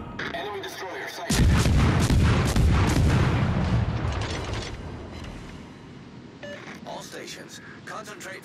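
Naval gunfire in a warship combat game aimed at an enemy destroyer: a heavy loud boom around one second in, then a long rumbling roar that slowly fades, with mechanical clanks and later softer rumbles, under game voice callouts.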